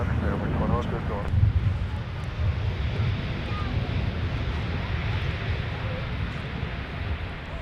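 A Delta Airbus A321neo airliner arriving at Minneapolis–Saint Paul airport, heard as a steady, loud, broadband jet roar under wind noise, with brief speech near the start.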